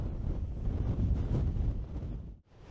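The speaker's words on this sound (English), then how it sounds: "It's very windy, very cold" Strong, cold wind buffets the microphone on an open Lake District fell near Fairfield and Great Rigg, a steady loud roar that dips briefly near the end.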